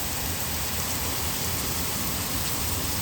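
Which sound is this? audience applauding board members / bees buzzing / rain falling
rain falling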